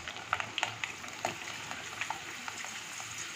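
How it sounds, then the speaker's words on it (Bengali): Sabudana (tapioca pearls) frying in hot oil over a low flame, a steady close sizzle with scattered crackles and pops throughout. "এবার আমি সাবুদানাগুলোকে অল্প অল্প করে তেলে ভেজে নেব।"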